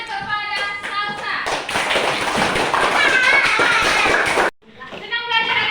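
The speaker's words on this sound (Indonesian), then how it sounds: "Tepuk tangan" Primary-school classroom applause in North Sumatra, Indonesia: children clap together in a rapid, loud burst for several seconds, with young voices chattering before and after.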